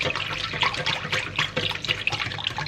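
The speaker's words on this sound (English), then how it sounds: "I'm gonna have to slowly add the hot broth very slowly into this so I don't cook the eggs" Hot broth poured slowly into whisked eggs, yolks and lemon juice, giving a steady close trickle of liquid with no talking.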